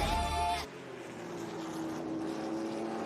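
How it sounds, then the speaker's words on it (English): Racing car engines at Laguna Seca during a historic motorsports reunion, a brief loud burst of roaring engine noise that cuts off and leaves a steady, more distant drone of passing race cars. "where once again you can hear the roar of engines"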